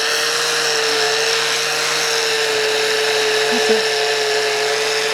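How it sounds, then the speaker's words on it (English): A steady, high-pitched whirring grind from a worn wire wheel on a power tool scrubbing rust off a lawnmower's metal runs continuously and loudly, without pause. "we're going over with the worn wire wheel, all your worn areas"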